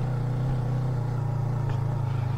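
A motorcycle engine runs close by with a steady low rumble as the throttle is worked, lightly rising and falling in a brief burst without talk.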